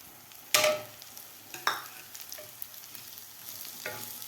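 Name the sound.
sautéing peanuts and spring onion for khichdi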